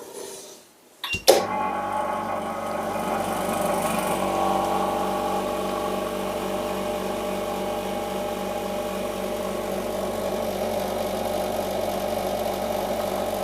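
A household vacuum sealer clicks on after a moment of near quiet, then its pump motor hums at a steady, mid-level drone while it seals a plastic bag and draws out the air, with no one talking.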